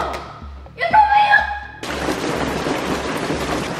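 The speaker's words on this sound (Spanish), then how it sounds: "Está cayendo granizo." A dense, steady patter of hail striking surfaces sets in suddenly and continues, following a brief burst of voices and low thumps.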